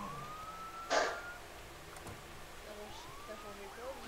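A fire engine siren from a video game rises and falls faintly in the background, with a brief louder burst early on and another siren sweep later.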